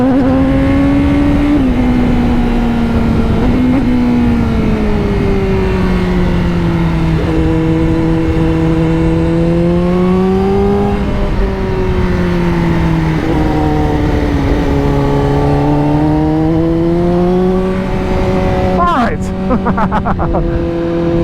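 Honda CBR1000RR-R Fireblade engine pulling in fourth gear with a steady, loud, rising and falling drone that dominates throughout, with brief sharper bursts near the end.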